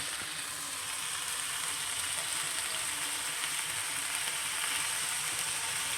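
Broth bubbling in a cooking pot along with a leafy vegetable dish, giving a steady, close bubbling and sizzling hiss that holds even for the whole stretch, with no talking.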